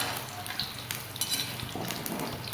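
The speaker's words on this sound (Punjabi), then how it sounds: "ਇਹਨੂੰ 5 ਤੋਂ 6 ਮਿੰਟ ਤੱਕ ਆਪਾਂ ਇਦਾਂ ਹੀ ਫਰਾਈ ਕਰਨਾ ਹੈ" Amla (Indian gooseberries) fry in a pan over medium flame, giving a steady soft sizzle with occasional light clinks and scrapes of a spoon stirring against the pan.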